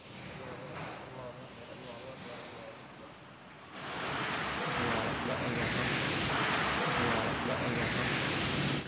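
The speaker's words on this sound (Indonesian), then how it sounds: "Angin puting beliung yang juga disebut warga setempat sebagai angin lisus mengamuk kemarin sore di sebagian wilayah Klaten, Jawa Tengah" Violent tornado winds tearing through Klaten, Central Java, heard as a dense, roaring broadband rush that swells louder after a few seconds and holds steady, with no speech.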